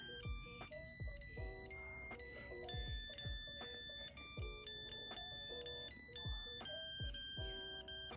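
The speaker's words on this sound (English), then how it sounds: "it does that by playing a little tune on the charging station like a lullaby" A bright, electronic chiming melody plays steadily from a baby monitor's charging station in a repeating pattern, like a simple lullaby tune, with no voices.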